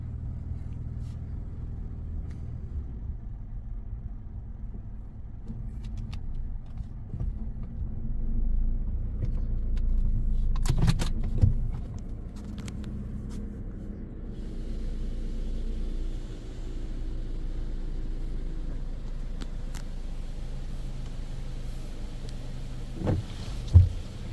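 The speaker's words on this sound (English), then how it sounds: "these are actually Coleman Hanna dryers" Coleman Hanna car wash dryers on a Waterwizard FasTrack wash at a gas station in Hagerstown, MD, blowing as a steady loud low roar with rumbling air, with a brief surge partway through and occasional clunks.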